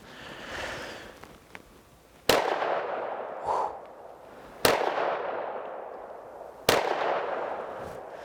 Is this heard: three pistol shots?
yes